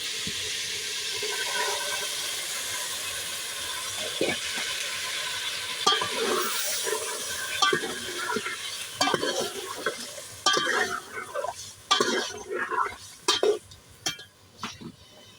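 Bombay duck (bombil) fish sizzles loudly in a hot pan with a constant crackling hiss, broken by scraping and stirring strokes that grow more frequent toward the end.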